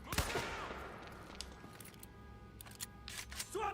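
Gunfire from the video game Quantum Break, several sharp close bursts and single shots that crack at the start and near the end, separated by quieter ringing pauses.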